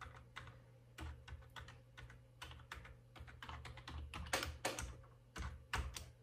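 Keys clatter on a computer keyboard as a login password is entered, a steady run of light, close clicks with a few heavier strokes, likely the enter key, over a constant low hum.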